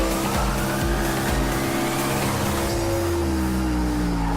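Race car engine in a NASCAR stock car at Le Mans in a racing video game, a steady droning roar with shifting pitch as it brakes and sheds speed for a corner, loud and continuous with no talk.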